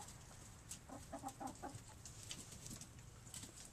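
Several backyard chickens clucking softly in short bursts over a steady outdoor background, fairly faint and without talk.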